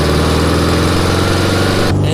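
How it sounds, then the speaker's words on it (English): A Volkswagen Type 3 engine with dual carburetors and a glass pack exhaust runs at a steady, loud throbbing idle, close by, with a rough pulsing rumble and no voices. "The glass pack exhaust."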